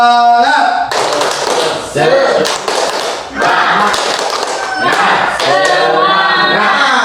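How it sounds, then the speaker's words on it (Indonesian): A group in a school gathering performs the tepuk semangat cheer, a loud, rhythmic run of patterned clapping alongside voices chanting together. "saya ingin sekali Bapak dan Ibu untuk memberikan tepuk semangat"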